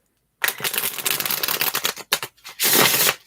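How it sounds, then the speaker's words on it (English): A deck of cards shuffled repeatedly at close range, quick crisp riffling flutters and a final long burst of cascading cards, with no speech. "I do want to shuffle these cards really good"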